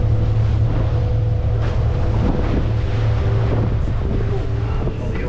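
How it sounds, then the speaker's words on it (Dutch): Heavy sea and wind buffet a pilot tender boat heading out to a ship in stormy weather, a steady loud rumble of engine and water with gusting wind noise throughout. "Dit zijn iets andere golven dan normaal."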